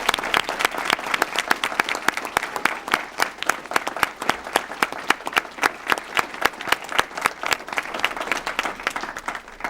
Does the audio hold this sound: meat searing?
no